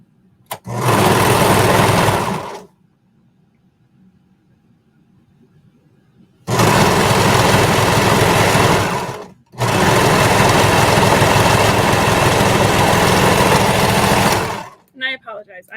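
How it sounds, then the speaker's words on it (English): A sewing machine stitches fabric in three loud, steady bursts, the first short and the last two long, separated by a quiet gap. No one speaks during the runs. "You want to make sure too when you're sewing that you're not pulling your fabric out the back or stretching it in the front when you're sewing."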